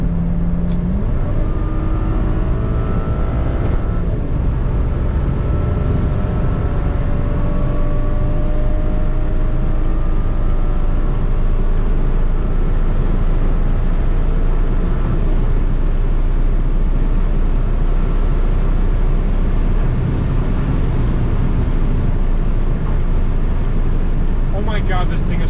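High-revving car engine, a performance model able to scream up to 7,000 RPM, heard from inside the cabin as a loud sustained drone with rising pitch, with someone talking over it throughout.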